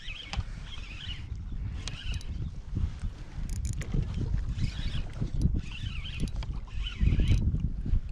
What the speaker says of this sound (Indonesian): Dengar angin lagi kuat ni.